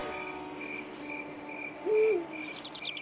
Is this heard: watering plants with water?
no